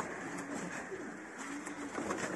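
Racing pigeons in a loft give soft, low cooing calls that recur throughout under steady background noise, moderately near and fairly quiet, with no talk.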